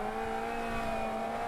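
A car in the racing game Automobilista 2 drifts on handbrake in second gear, a steady high engine whine with a sustained tonal hum, holding constant throughout.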